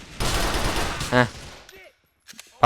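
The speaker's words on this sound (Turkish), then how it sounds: "Bak biri daha sıktı." Heavy gunfire from a firefight in GTA 4: The Lost and Damned, a dense sustained burst of rapid shots with a sharper spike near the end, then a pause and a few more isolated cracks.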